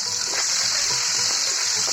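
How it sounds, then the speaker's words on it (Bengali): Eggs fry in a pan beside cooking chicken, giving a steady, loud, even sizzle with a broad hiss that holds without pause and no voices. "এদিকে আমি ডিমগুলো খুব সুন্দরভাবে ভেজে নিচ্ছি।"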